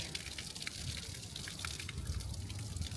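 Fountain water flowing steadily outside a castle in Würzburg, Bavaria, a continuous splashing wash with faint drips, fairly close and unbroken throughout.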